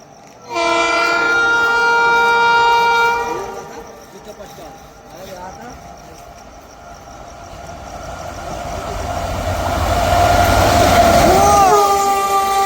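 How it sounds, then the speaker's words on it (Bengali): Train 13103 Sealdah–Lalgola Bhagirathi Express rushing through Taherpur station at 110 km/h at night: a loud multi-tone horn blast, then rising rumble and clatter of coaches as it passes close. "সামনে দিয়ে আসছে train number 13103 Sealdah Lalgola Bhagirathi express flat 110 স্পিডে"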